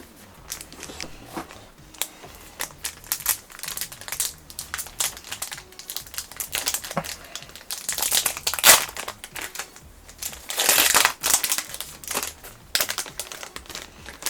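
Foil wrappers of Vanguard Booster Pack 02 trading card packs being crinkled and torn open, close and loud, with irregular crackling bursts and louder ripping surges.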